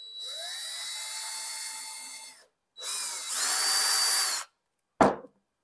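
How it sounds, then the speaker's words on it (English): Power drill boring a gentle pilot hole at an angle into wood while building a garden potting table; two sustained whining bursts of the motor, the second rising in pitch, then a short final burst, close and loud with no talk. "you're gonna take your drill here and kind of come in at a 45 degree angle and do it gently"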